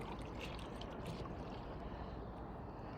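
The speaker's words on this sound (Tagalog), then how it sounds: "Oh, laki ng alon dito" Big waves wash and churn on open water in a steady, dense roar close by, with no voices over it.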